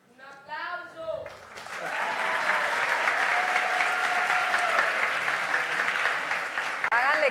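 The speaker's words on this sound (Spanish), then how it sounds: "¡Un aplauso!" Audience applause at a public policy event with children in Manaure, La Guajira, Colombia, rising after a brief spoken introduction into sustained, dense clapping that fills the room for several seconds.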